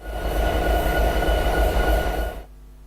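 A diesel train rolls steadily in Train Simulator 2016, its low engine rumble and rail noise loud and continuous with a faint clatter, then cutting off abruptly near the end.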